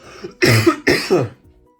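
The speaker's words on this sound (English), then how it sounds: "That'd be nice watching me cough all over the place." Two harsh, close coughs in quick succession, each a short rough burst, followed by a faint throat clearing.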